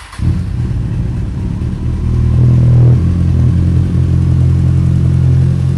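Kawasaki Z1000 motorcycle idling up close after a start, a loud steady low engine rumble that swells slightly around the middle and then holds even.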